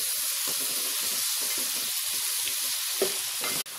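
Sliced onions sautéing in a pan for chicken curry, a steady close sizzle and hiss with soft irregular stirring knocks, ending in a brief clatter, no voices.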